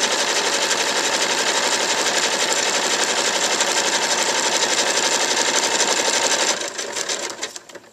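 Satin stitch appliqué sewn on a sewing machine, a steady, fast, dense mechanical whir running loud and unbroken, then slowing and stuttering to a stop near the end.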